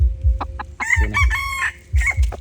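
A rooster crows close by in a rhythmic, strained call, with a low thumping in the background and soft clucking around it.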